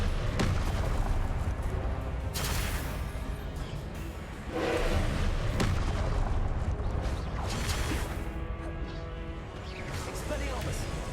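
Repeated Confringo blasting-spell explosions in the video game Hogwarts Legacy, dense booming bursts layered over steady game noise and music, with talking alongside.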